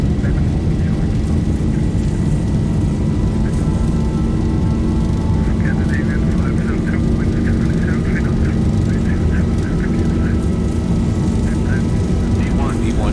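Zibo Boeing 737-800 engines at takeoff thrust in a flight simulator: a loud, steady, unbroken roar with droning tones, heard from the cockpit throughout the takeoff roll.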